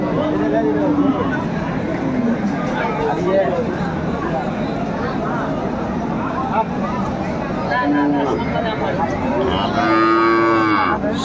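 Several dairy cows and calves moo loudly, deep and drawn out, over the constant babble of a crowd talking at a cattle market in Dinajpur, Bangladesh.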